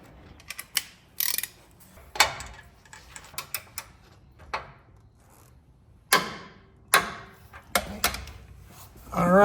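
A torque wrench set to 80 foot-pounds tightens an upper control arm bolt on a Jeep Wrangler or Gladiator, giving sharp intermittent ratcheting clicks and metallic snaps close by, spaced out with brief pauses between strokes.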